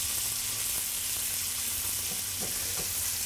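Shrimp frying in a pan just after being flipped give off a steady, close sizzle with faint scraping stirs near the end, and no voices.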